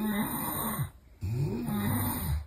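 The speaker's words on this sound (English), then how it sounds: "The only advantage of someone snoring in my room was that I've managed to get up nice and early" Someone snoring in a hostel dorm room, with long rasping, droning breaths that rise and fall in a steady rhythm, close and fairly loud, broken by a short quiet gap between breaths.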